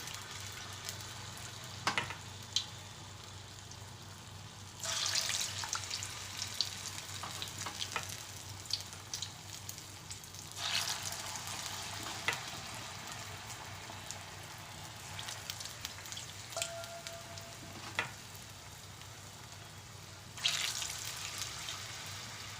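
Rolled banana snack pieces fry in hot oil in a pan, a continuous crackling sizzle that swells in bursts as pieces drop in, with occasional light clinks, no talking.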